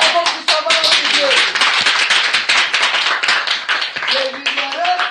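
A church congregation clapping together in praise during a worship service, rapid rhythmic claps under voices calling out and singing.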